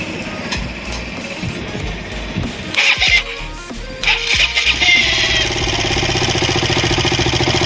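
KTM RC 200 motorcycle engine cranking with a few uneven bursts, then catching and settling into a steady, loud idle with a constant mechanical drone.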